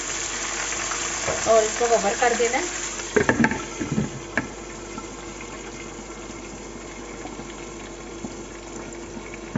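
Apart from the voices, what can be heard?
water added to browned onions in a cooking pot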